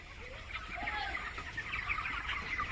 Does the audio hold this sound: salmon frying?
no